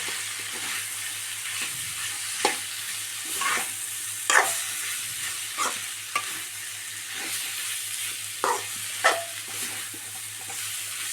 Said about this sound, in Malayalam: ഒരു രണ്ട് സ്പൂൺ കുരുമുളക് ചതച്ചതിടാം നന്നായി മിക്സാക്കി കൊടുക്കാം